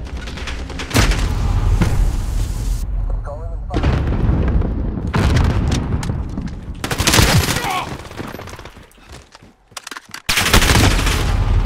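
Heavy gunfire from a Call of Duty Modern Warfare Headquarters multiplayer match, with loud sustained automatic bursts and booming shots that keep going nearly throughout, a short lull near the middle, and a voice talking over the fighting.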